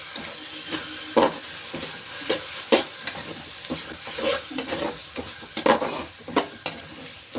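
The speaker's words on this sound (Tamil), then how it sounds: "இது நல்லா ஒன்று சேர்ற மாதிரி கிண்டி விட்டுக்கிறோம்" A spoon stirs spiced egg idli upma in a pan over a low flame, with steady scraping and clinks against the pan over a soft sizzle, close up.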